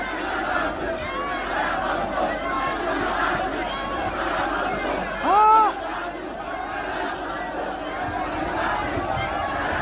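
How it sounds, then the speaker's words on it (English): Large crowd of protesters gathered at an airport entrance in a standoff with army and police, a continuous distant roar of voices with shouts and a brief louder cry rising above. "Unbelievable crowd, unbelievable crowd."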